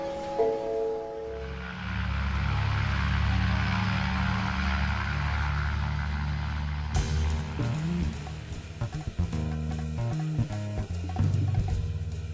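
An airliner at the gate before departure to New York, used as an audio-drama effect: a steady, loud engine roar and rumble that holds alone, then shifts into a busier mix of mechanical clatter and whine near the end.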